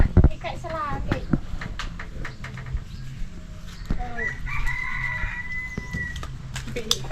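A chicken clucks and calls several times in a rural village setting, mid-distance and fairly clear, mixed with people talking, clatter and background bustle.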